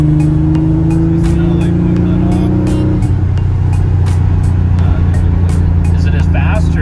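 Porsche 911 Carrera Targa on a hot lap through a neighborhood, its engine a loud steady drone that holds one pitch then shifts lower as the car changes gear, heard from inside the cabin with continuous road noise.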